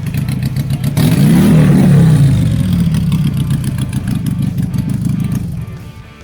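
Triumph Bonneville motorcycle engine revs up loudly close by, holds a rumbling roar, then settles back toward idle with a steady throbbing beat, outdoors at a café gathering.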